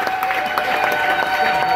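A church congregation claps together, a dense rhythmic burst of applause with a sustained tone ringing underneath throughout.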